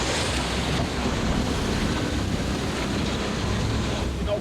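Heavy ocean swell off a rugged Australian reef coast, heard from a lobster fishing boat: a dense, continuous wash of surf and water with wind buffeting the microphone, close and loud with no voices.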